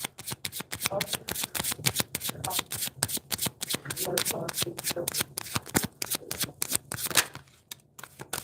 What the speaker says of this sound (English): I want to pull another Oracle card